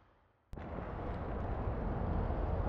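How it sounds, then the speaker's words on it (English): A car explodes in the online game APB Reloaded with a sudden loud blast, followed by a sustained, roaring burn that stays loud to the end, with no talk over it. "It was a car explosion."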